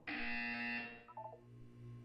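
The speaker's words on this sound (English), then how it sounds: "You will hear a buzzer." A tonal electronic buzzer from the Portal 2 video game sounds once, steady for most of a second and then trailing into a few fading lower tones, clear with nothing else around it.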